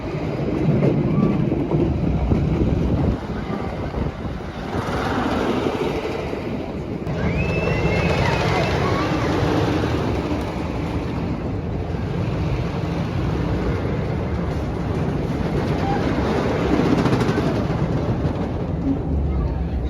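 Park train ride at Busch Gardens Williamsburg, heard from aboard: a steady rumble of the moving train under heavy wind buffeting, with a faint squeal of wheels partway through and no talk.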